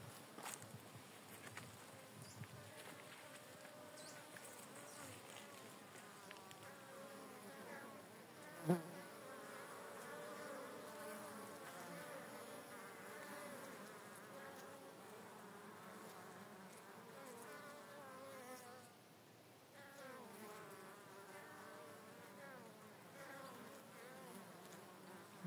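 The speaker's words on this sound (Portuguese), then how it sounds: "Dá para ver ali, ó, que tá saindo bastante abelha" Honeybees buzz at the entrance of a hive housing a swarm rescued 30 days earlier, a soft, continuous hum with one brief knock partway through.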